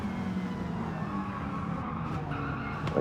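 Racing video game car sliding its tires while rotating through a corner, a continuous screeching skid over a steady engine drone, loud and sustained throughout.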